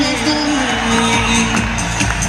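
A large indoor crowd at the Forever Success 2026 event in Delhi claps and cheers loudly and continuously, a dense roar of applause with scattered whoops and an amplified voice underneath.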